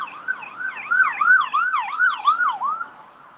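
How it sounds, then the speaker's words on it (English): A wailing ambulance siren sweeps rapidly up and down in repeated cycles, loud and close, fading slightly at the end. "we got a damn ambulance"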